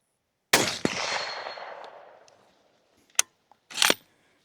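Loud gunshot from an Aero Precision M5 .308 AR10 rifle outdoors, a sharp crack with a long decaying echo, followed by a couple of metallic clanks.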